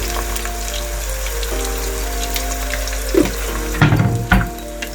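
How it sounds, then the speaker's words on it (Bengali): Onions fry in a pan for Bangladeshi-style duck bhuna, giving a steady close sizzle broken by a few louder stirring scrapes near the end, with no talk. "পেঁয়াজটা আমি মোটামুটি একটু ভেজে নেব"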